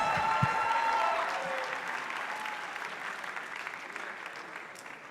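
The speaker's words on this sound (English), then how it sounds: "Let's clap for Xeus." Applause from an audience at a panel session as a panelist comes on stage, a loud burst of clapping that gradually fades and thins over several seconds.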